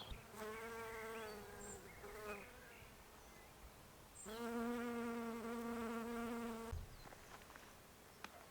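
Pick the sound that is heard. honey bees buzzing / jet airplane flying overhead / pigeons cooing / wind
honey bees buzzing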